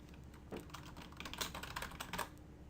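Fingers type steadily on a computer keyboard, a quiet, close run of irregular clicks and key taps with no talk over it.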